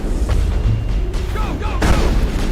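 Gunfire and explosions crack and boom in a video game battle, with rapid shots and a swell of noise as a voice speaks over the firing.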